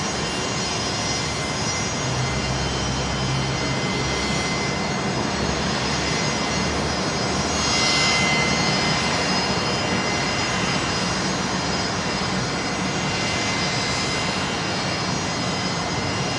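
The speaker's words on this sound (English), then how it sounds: "What a noisy old thing, the Fokker." A noisy old Fokker airliner at Brisbane Airport produces a steady, broad engine roar that swells slightly midway and stays loud and sustained, with no voices over it.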